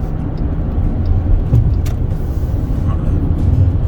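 A car cruises along a rural road near Marianna, Florida, on a warm Sunday evening, with a steady, even engine and road rumble heard from inside the cabin.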